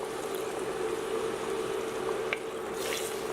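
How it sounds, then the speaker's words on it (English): Water streams steadily into a pan of chicken caldereta, a continuous splashing pour with a few small clinks near the end. "So at this point I want to add in water"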